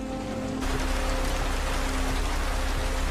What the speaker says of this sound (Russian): Сегодня идет дождь.